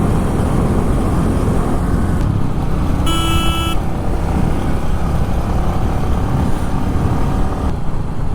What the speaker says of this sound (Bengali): এই আমাদের 3টে বাইক যাচ্ছে সামনেই।